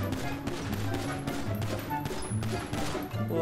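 Rapid bursts of gunfire in GTA V roleplay, repeated shots crackling in quick rhythmic volleys over an ambient backdrop, close and loud throughout.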